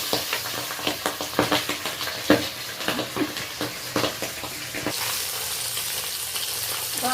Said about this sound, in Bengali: মাছটা প্রচুর ফাটছে, ওই জন্য আমি একটা ঢাকনা চাপিয়ে দিলাম